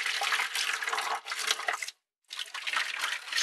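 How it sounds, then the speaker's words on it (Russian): Warm boiled water pours steadily into the holes of a goose egg incubator, a close, continuous splashing stream that breaks off briefly and then resumes, with no talking. "Надо залить теплую воду,"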